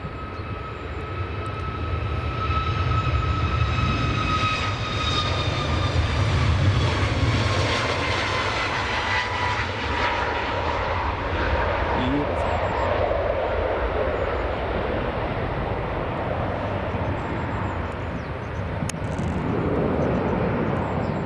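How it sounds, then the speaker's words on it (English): A Ryanair Boeing 737 MAX 8-200 departs from Edinburgh Airport, its jet engines making a steady, loud roar with a whining tone that holds for over twenty seconds, heard from a distance outdoors. "here goes the Ryanair 737 MAX 8 200. Just about to depart."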